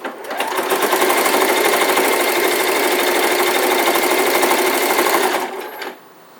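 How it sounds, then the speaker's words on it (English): A sewing machine stitching a fabric seam on an elf hat, running at a steady fast whirring pace for about five seconds before slowing and stopping, close and loud. "we're going to take the green and we're going to sew all the way up"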